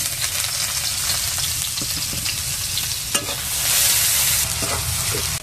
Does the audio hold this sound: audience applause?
no